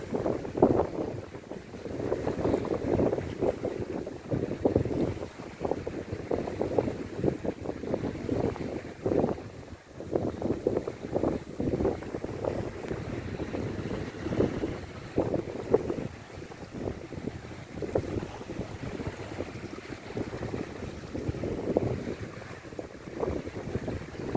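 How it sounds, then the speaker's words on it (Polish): Strong wind gusts roar and buffet the microphone at the shore of Puck Bay near Kuźnica, with waves churning beneath in a continuous, loud, fluctuating rush and no talk. "Dzisiaj pogoda jest fatalna. Wieje totalnie."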